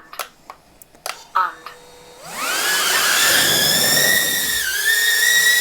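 A few taps and a brief voice, then the propellers of a Sub250 Huma20 FPV drone carrying a DJI O4 Pro spin up into a loud, high-pitched whine that holds steady with slight pitch dips.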